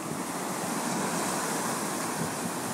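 Ocean waves break and wash over a rocky shore during a tuna-fishing outing, making a steady, loud roaring hiss with wind buffeting the microphone and no voices.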